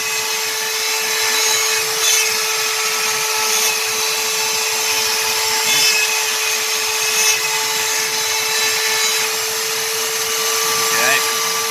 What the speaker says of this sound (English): So I'm cutting out a pocket, and I'm going down about an 1/8 inch each time.